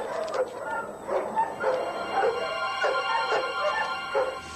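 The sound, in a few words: dogs barking at a kennel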